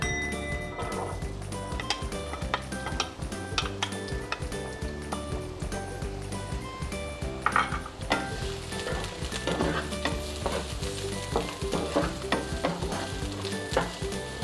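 Chopped onion and garlic sauté in olive oil in a pan, a loud, steady sizzle running throughout with scattered scraping and stirring clicks from the utensil.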